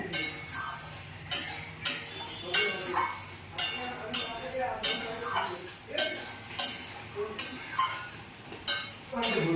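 Eggs stirred in a cooking pan, heard as a close, regular series of scraping and clinking strokes about every half second, with someone speaking over them.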